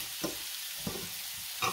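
Garlic pepper shrimp in a pan, with a low steady sizzle and a few soft scraping stirs at irregular intervals, close by and fairly quiet.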